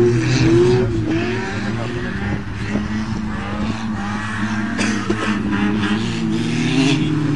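Two 1.6-litre cars, a front-drive 1994 Nissan Sentra and a rear-drive Toyota, race on a dirt offroad track, with steady engine drone, revving and tire noise throughout and people talking over it.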